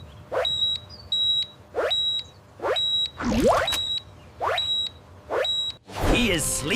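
Smoke alarm in a cottage kitchen, sounding as a repeated series of short high beeps in a steady rhythm, with swooping voice-like sounds mixed between them; a voice seems to imitate the beeping.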